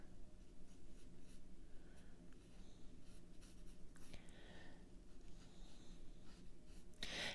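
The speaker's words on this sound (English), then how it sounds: "I'm trying to sketch really lightly" A pencil sketches lightly on watercolor paper, outlining a cotton boll, in faint scratchy strokes that come in short irregular bursts against a quiet room.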